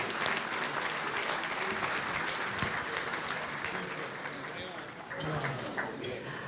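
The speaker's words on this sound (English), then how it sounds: "Please welcome them with a nice round of applause." Guests at a pre-Ramadan mosque banquet applaud to welcome the masters of ceremonies, a full, sustained crowd clapping with some voices mixed in beneath it.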